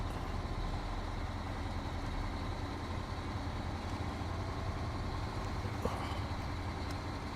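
In SnowRunner, a heavy truck engine drones steadily and loudly as it pushes through mud, a constant low growl with no breaks and no voices.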